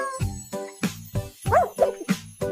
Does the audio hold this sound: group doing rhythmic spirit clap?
no